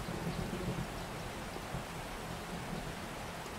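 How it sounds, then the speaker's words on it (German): A rainy thunderstorm in 7 Days to Die: even, hissing rainfall fills the scene with a faint low rumble beneath it, steady and fairly quiet, no one speaking. "Ist da Gewitter?"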